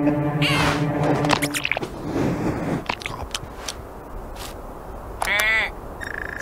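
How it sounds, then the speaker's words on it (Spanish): Gull-like cries and squawks in the game I Am Future, with a cluster of harmonic calls early on and another bright burst near the end, over a steady ambient bed. "La gaviota ahí."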